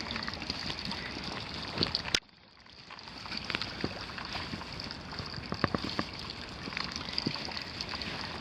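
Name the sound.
water leaking from exterior house fixture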